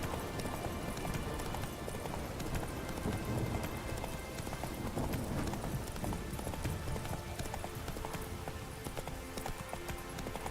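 A horse gallops in The Witcher 3 with continuous rapid hoofbeats that stay steady and close throughout, over a faint wash of background ambience.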